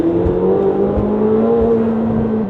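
A McLaren 750S with a sequential gearbox is pushed to full throttle. The engine gives a loud, close, sustained drone whose pitch climbs steadily, then dips abruptly near the end.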